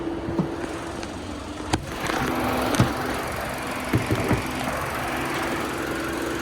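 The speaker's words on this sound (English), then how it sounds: "4-cylinder engine, most likely" A 2025 Nissan Altima with a four-cylinder engine idles, a steady low hum with faint ticks and a few light knocks, heard up close with no talk.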